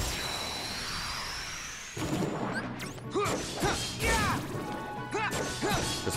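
Melee smashing attacks land in Kingdom Hearts Re:Chain of Memories, with a rising whoosh followed by several sharp impact crashes and swishes in quick succession and game effects layered over them.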